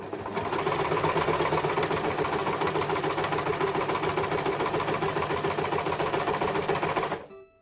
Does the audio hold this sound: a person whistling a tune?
no